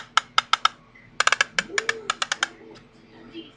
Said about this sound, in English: the actual hollowness of this actually amplifies the clicking sound